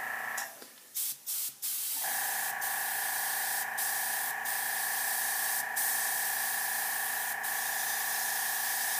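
An airbrush sprays a lighter shade of blue paint onto figure hair, a few short hissing bursts giving way to a continuous, steady close-up hiss with faint periodic clicks.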